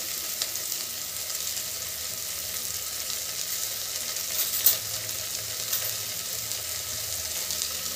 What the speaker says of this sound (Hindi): अब डाल देंगे हम इसमें अपना टमाटर।